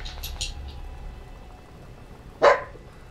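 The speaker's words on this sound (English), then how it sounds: "Stop barking in my ear." A dog in the video game Tomb Raider gives a single short, sharp bark late on, after a stretch of faint, quiet background sounds.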